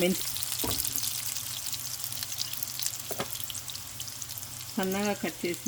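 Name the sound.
chopped fenugreek leaves, onions and garlic frying in oil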